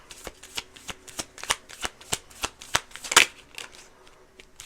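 Tarot cards shuffled by hand in a steady run of about a dozen crisp riffles and slaps, close and clear, with one sharper snap near the end and no talk.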